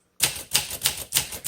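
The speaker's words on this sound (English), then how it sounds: "Okay, let's keep typing." A 1962 Olympia SM5 manual typewriter is typed on after a moment of silence. Five sharp, close keystrokes strike in a steady, even rhythm.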